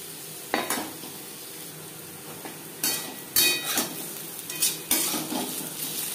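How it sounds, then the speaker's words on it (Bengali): Potatoes shallow-fry in a little oil in a pan, a low steady sizzle broken by several sharp clinks and scrapes of a spatula stirring against the metal, with no speech. "আমি এখানে শ্যালো ফ্রাই করলাম, আপনারা চাইলে ডিপ ফ্রাইও করতে পারেন।"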